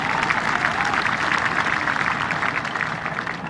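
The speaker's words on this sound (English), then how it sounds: "Another round of applause." Loud, close applause from a graduation ceremony audience, a dense burst of many hands clapping together that stays strong for a few seconds before tapering slightly.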